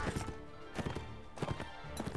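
Horse hooves clip-clop in the Mount and Blade Warband video game, a loose run of soft, fairly close hoofbeats in uneven clusters over a steady background bed.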